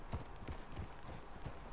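Horse hooves clip-clop in Red Dead Redemption 2, a few soft, evenly spaced steps heard faintly against a low ambient background.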